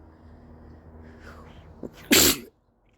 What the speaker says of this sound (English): I'm having a sneezing fit.